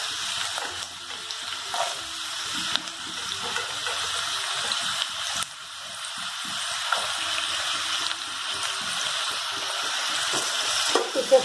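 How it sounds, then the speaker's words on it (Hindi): Potatoes and mixed vegetables frying in hot oil for a paneer dish, a continuous soft sizzle with intermittent clatter and splashy bursts, moderately quiet and without speech. "देख सकते हैं ऑयल हमारा गर्म हो चुका है। मैं एक एक करके यहाँ पर सारे वेजिटेबल्स को फ्राई करूंगी"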